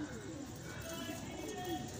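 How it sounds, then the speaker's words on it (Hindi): Teddy breed pigeons, some pure and some Teddy golden crosses kept as breeding pairs, coo softly in a low, steady murmur under a constant background hum, with talk faintly mixed in. "ये सब जोड़ों वाले कबूतर हैं"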